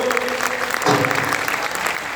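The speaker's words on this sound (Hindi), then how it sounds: "तो एक बार मैं चाहता हूं परमपिता परमेश्वर के लिए भी तालियां होनी चाहिए" Audience applause at a live gathering, a steady dense wash of many hands clapping for about two seconds with no talking over it.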